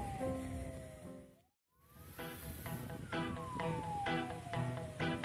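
An ambulance siren wails in rising and falling sweeps while escorting a hearse-style ambulance carrying the deceased to a Christian public cemetery, loud and continuous apart from one brief dropout, with no talk.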